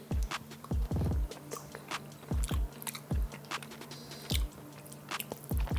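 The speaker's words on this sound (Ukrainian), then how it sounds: "Щось хрумтить на зубах, можливо, перемелені кістки." Close, loud crunchy chewing of canned meat with ground bones in repeated bites, each chomp sharp and brittle with short pauses between, no voices.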